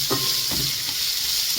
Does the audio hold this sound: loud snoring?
no